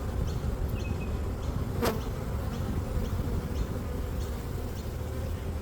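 Honey bees drone in a steady low buzz around an open beehive during a winter inspection, with a brief sharp click partway through.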